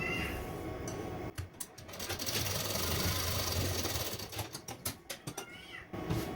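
A sewing machine stitches a princess cut blouse in an extended buzzing run that breaks into short stuttering bursts, heard nearby at moderate volume.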